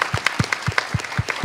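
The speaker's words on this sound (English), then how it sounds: "And a round of applause for the filmmakers." An audience claps for filmmakers after a screening, a short burst of quick, evenly spaced claps from a modest crowd, fairly close and without speech.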